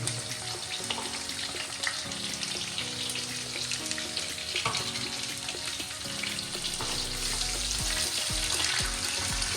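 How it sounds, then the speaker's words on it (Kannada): Sliced onions frying lightly with green chillies and curry leaves in a pan, a fairly faint, steady sizzle with occasional stirring knocks; no one speaks. "ಇವಾಗ ಈರುಳ್ಳಿನ ನಾವು ಲೈಟಾಗಿ ಫ್ರೈ ಮಾಡೋಣ"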